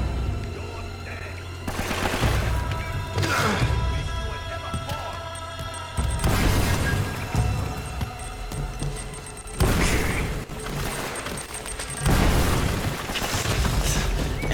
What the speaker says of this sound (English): Everybody just threw grenades, but nobody hit anything.